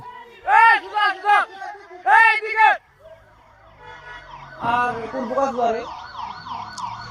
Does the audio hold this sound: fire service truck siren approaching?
yes